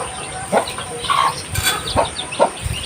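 A hungry hen clucks repeatedly in a farmyard, a series of close, fairly loud short clucks in an irregular rhythm with no talking.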